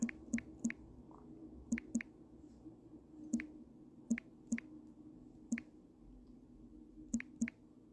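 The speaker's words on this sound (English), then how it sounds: "Just typing in this comment real quick." Quiet, irregular clicks of typing on a keyboard or phone, a dozen or so light taps spread out with pauses, close by and soft.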